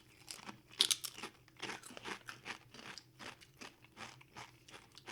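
Berts British hand-cooked vintage cheddar and green onion potato chips being eaten, heard as a run of close, quiet, irregular crunches and chewing bursts with no talking.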